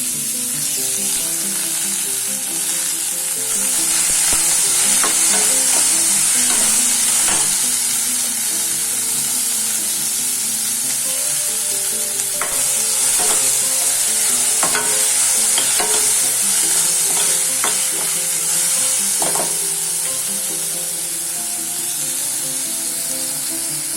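Tomatoes fry in a pan for egg bhurji, a steady loud sizzle with frequent spatula scrapes and clicks as they are stirred over a long stretch, without speech.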